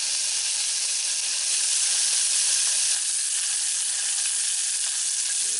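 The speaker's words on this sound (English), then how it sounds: "as with all newly seasoned cast iron, first thing going in, our good friend, bacon." Bacon sizzles in a newly seasoned cast iron pot, about three slices, giving a loud, steady, close hiss that holds without a break and has no voices over it.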